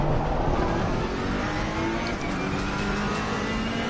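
A GT race car on the Silverstone circuit in Assetto Corsa Competizione roars alongside as another car passes, a dense, loud, sustained engine drone with a steady whine and no voices over it.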